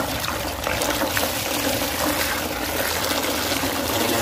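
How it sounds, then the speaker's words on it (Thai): Water from a tap pours steadily into a container while a homemade weed-killer mix with salt is prepared, a continuous close, loud splashing rush lasting throughout with no talk. "จากนั้นครับก็เปิดน้ำใส่ครับ"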